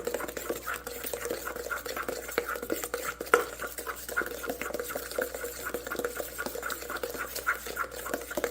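A cup of sugar, an egg and vanilla extract being mixed in a bowl for banana bread, a steady scraping and clinking of a utensil stirring against the bowl with no talk.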